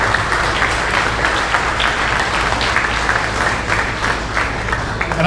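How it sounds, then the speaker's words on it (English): Audience applause at an evening community program for a local park project, a dense, steady wash of clapping that fills the room for several seconds without a break. "So let's give him a round of applause."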